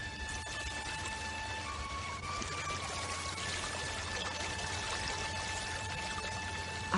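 Cool water from a hillside spring pours steadily out of a spout near a hut, a constant close splashing stream with faint tonal background hum and no voices.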